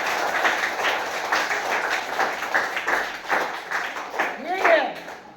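Audience applause for a student quiz winner at a Kannada quiz programme, a steady patter of clapping from a crowd lasting several seconds, with a voice speaking over it.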